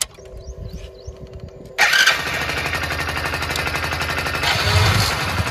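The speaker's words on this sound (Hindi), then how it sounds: "देखो मैं गाड़ी को वापस स्टार्ट करता हूँ एक बार" A motorcycle fitted with two connected silencers cranks and fires up after a quieter stretch of ticking, then settles into a loud, steady idle that swells slightly near the end.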